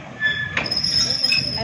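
Train wheels grinding and squealing on rails in the UK, a steady rumbling roll with a sharper metallic squeal rising briefly partway through.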